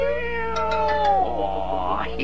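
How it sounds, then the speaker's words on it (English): Cartoon kittens meowing in a Tom & Jerry scene: a few high, drawn-out mews in quick succession, close and clear, with a falling pitch. "so that's it. 6 kittens."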